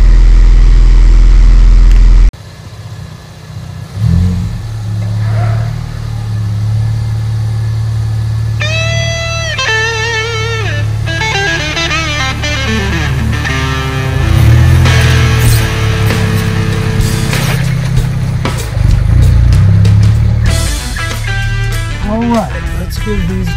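A Ford Bronco with freshly swapped axles and new gears on a test drive, its engine droning loud and close with rising and falling revs and whining tones throughout.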